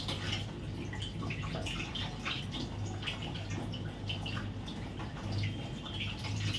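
Items are being washed under a running tap, giving a steady close stream of splashing water with small clatters and drips throughout.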